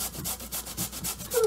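Peeled sweet potato rubbed against a fine grater in a kitchen, giving a rapid series of close rasping strokes in a steady back-and-forth rhythm, with a brief higher squeak at the very end.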